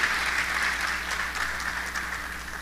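A church congregation breaks into a steady wash of applause, many hands clapping together at a moderate distance for a few seconds without pause.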